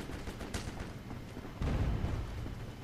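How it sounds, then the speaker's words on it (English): A grenade goes off in a free zombie shooter game: a sharp blast at about 1.6 seconds rolls into a loud, rumbling low boom that lingers over the game's background noise. "Oh god, I threw a grenade!"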